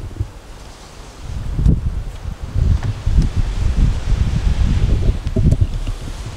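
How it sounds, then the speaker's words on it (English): Strong wind buffets a campsite right on a Baja beach, a steady low roaring rush with gusty surges and rustling, loud and close, no talk. "Hopefully tomorrow the wind calms down in the morning."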